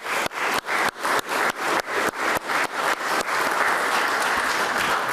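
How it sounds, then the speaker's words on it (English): An audience at a grand opening for a Boston tower gives a round of applause, starting as a few rhythmic, evenly spaced claps before merging into steady, dense clapping. "I'd like to give the Hines and Fred Clarke a round of applause."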